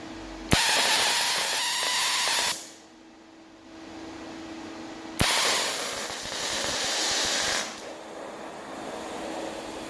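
TIG welding pass across a bar with a 1.6 mm tungsten electrode: two loud, steady hissing arc bursts of about two seconds each, starting and stopping abruptly with a quieter hum between them.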